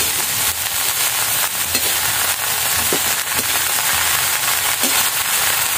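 Fiddlehead fern greens and dried shrimp fry in a pan, a loud, continuous close sizzle broken by scattered pops and crackles and a few scraping stirs.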